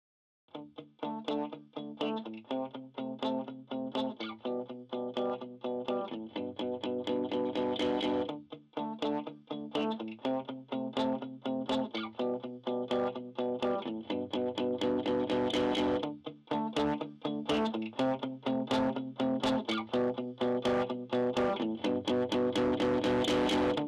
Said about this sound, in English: drive at higher settings, you move into the realm of distortion as effect.